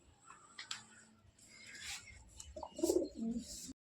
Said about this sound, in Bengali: এখানে দুটো টেডি পায়রা আছে